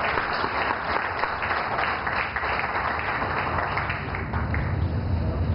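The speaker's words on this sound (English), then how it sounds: "with a loud applause" Loud, steady audience applause fills a hall at a company annual general meeting, dense clapping from many people sustained without a break and no speech over it.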